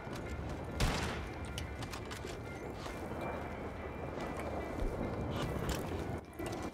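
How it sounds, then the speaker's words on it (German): A rapid volley of gunshots in Red Dead Redemption 2 online co-op, quiet and distant-sounding, with sharp cracks standing out over a continuous rumble of game background noise. "Dann schießt doch schon wieder was."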